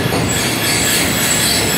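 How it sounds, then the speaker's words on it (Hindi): The Rehman Baba Express train slows toward a stop, its wheels squealing steadily and loudly beneath a continuous rumble of rail noise. "और ट्रेन बीच में यहाँ स्टॉप कर रही है"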